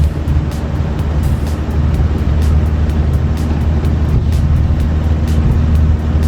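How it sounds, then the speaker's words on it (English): VW Baja Beetle running with a loud, rough engine drone and repeated loose clunks and rattles sounding at irregular intervals, close up. "There's an inordinate amount of clunking around in this thing. Something is very loose."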